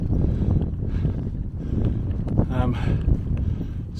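Wind blowing across open moorland on Dartmoor, a steady loud rushing and buffeting against the microphone throughout, with brief bursts of talk partway through.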